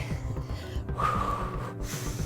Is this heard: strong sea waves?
no